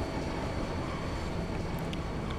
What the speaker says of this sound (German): Mit diesem Zug kommen wir nach Delhi City.